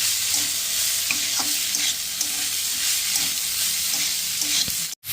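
Banana flower and potato sautéed in a pan with poppy seed paste, a steady close sizzle broken by scraping stirs of a spatula, ending in a sudden short silence.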